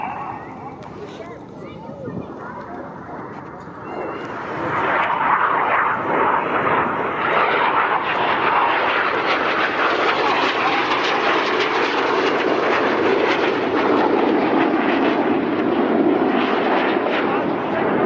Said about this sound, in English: Get your cameras ready for the colourful and dynamic synchro double roll.